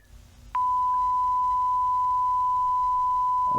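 A steady, pure electronic beep starts abruptly after a short stretch of low background noise and holds at a constant pitch and loudness to the end, with no voices.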